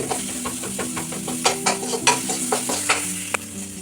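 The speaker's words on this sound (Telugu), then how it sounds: "టమోటా కూడా ఇలాగే పెద్ద ముక్కలుగానే కట్ చేసి అందులో వేసి ఫ్రై చేసుకోవాలి" Large tomato pieces frying in an ivy gourd (dondakaya) masala curry, a close crackling sizzle with rhythmic spatula stirs and scrapes against the pan, no voices.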